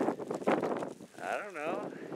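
Wind blowing outdoors in snow rushes across the microphone in rough gusts, with people talking close by over it and a brief wavering vocal sound partway through.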